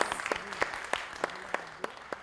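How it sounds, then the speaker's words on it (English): Applause from an audience at a conference in a hall, a steady spread of clapping heard at moderate distance for a couple of seconds. "This deserves a huge round of applause."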